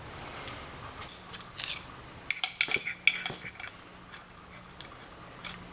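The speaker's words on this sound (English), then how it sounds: "I need to put a wrench on here." Wrench working a tight bolt loose on the steering assist of a 1964 Ford Galaxie: a quick cluster of sharp metallic clicks and clanks, then sparse lighter knocks, close and fairly quiet.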